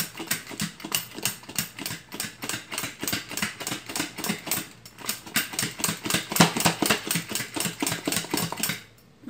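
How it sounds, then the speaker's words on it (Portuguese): Rapid rhythmic rattling and clattering of a lidded cooking pot of chicken being shaken hard to shred it, steady bursts for several seconds before stopping. "vamos chacoalhar essa panela."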